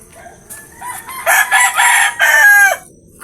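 A fighting rooster crows once, loud and close, its hoarse call rising, holding in a few strained syllables, then breaking off, with faint clucking before it.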